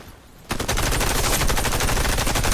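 Rapid gunfire from a pump shotgun in the Xbox 360 beta of the video game Warface, a loud, continuous run of sharp shots with no pause, starting abruptly after a brief quiet moment.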